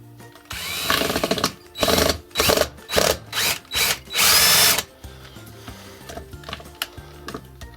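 Power drill driving a screw into a loft ladder during installation, several loud bursts of whirring in quick succession, each stopping and restarting, close by, then quieter room noise.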